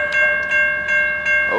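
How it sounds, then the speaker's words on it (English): A Norfolk Southern ES44 locomotive rolls past close by with a loud, steady engine drone and faint rhythmic clicking from the wheels. "that's one of the new ES44s"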